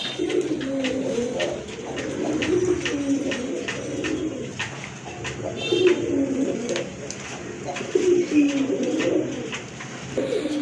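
A pair of blue bar Rajgolla pigeons coo nearby in repeated soft, throaty phrases that rise and fall, with no voices.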